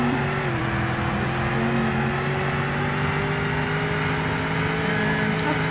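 A car in the Roblox game Greenville accelerating toward its top speed, a loud steady engine drone with rising tonal whine that climbs gradually through the gears without pause.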